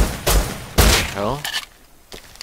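Gunfire from the Rust survival game: two loud, sharp shots close together early on, with fainter pops afterward and a voice speaking between them.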